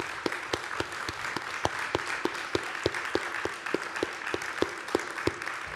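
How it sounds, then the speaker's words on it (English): An audience at a contemporary Scottish playwriting festival event claps steadily, a dense, even round of applause lasting throughout at moderate level with no talk over it. "So could I please have a big round of applause for Joe and David and Jamin."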